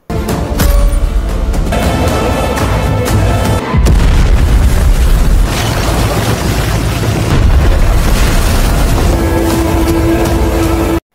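A house blows up in a film scene, a loud sustained roaring blast with deep rumbling and crackling debris that fills the whole stretch with no speech.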